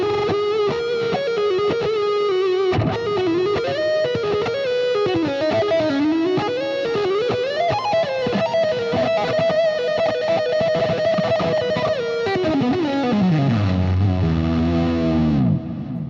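An Ibanez JS2GD gold electric guitar plays through heavy distortion with a continuous sustained lead line, bending notes and ending in a sliding downward dive, with no talking.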